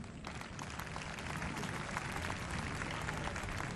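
A large crowd applauds continuously at the closing ceremony of the 8th Francophonie Games. The dense, unbroken clapping stays steady throughout and sounds faint and distant, as if heard from across a big stadium.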